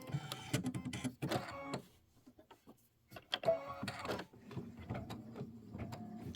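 An embroidery machine stitches the tack-down line on a pumpkin appliqué block for a pillow, a rapid mechanical chatter in several runs broken by short pauses.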